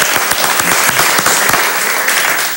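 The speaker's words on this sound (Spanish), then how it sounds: "Un aplauso para Tula Rodríguez" A television studio audience claps loudly and continuously for a guest on a talk show, dense close applause with no voices over it that thins slightly at the end.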